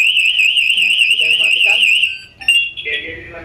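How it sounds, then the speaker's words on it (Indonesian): An SCBA personal alarm shrieks loudly and continuously with a warbling high tone for about two seconds after its manual button is pressed, then cuts off as clicks and a speaking voice follow. "Ini alarm bottom, fungsinya untuk membunyikan pas ini secara manual."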